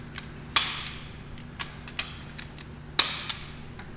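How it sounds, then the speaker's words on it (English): Wheel bolts on a car fitted with wheel spacers being tightened with a torque wrench, heard as sharp, evenly spaced clicks and metallic ticks over a steady low hum. "Tighten the wheel bolts using a torque wrench."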